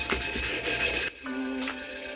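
Abrasive scrubbing of a dirty cooking pot, a steady rough rubbing that runs for about a second before giving way to quieter scraping and faint ringing tones.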